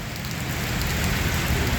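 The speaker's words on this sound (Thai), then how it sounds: "มาพร้อมฝนครับมาแล้วครับ" Steady, heavy rain from a tropical depression patters densely on a surface nearby, a continuous even hiss with no pauses.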